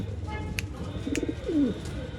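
An old-line pigeon coos, a short low burbling call followed by a falling warble, fairly soft amid a noisy indoor background with a couple of brief clicks.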